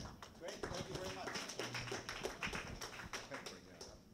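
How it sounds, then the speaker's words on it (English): Conference audience applauding a speaker being welcomed, with quiet, fairly distant clapping running steadily under a voice that talks over it. "Give him a round of applause to welcome Rick"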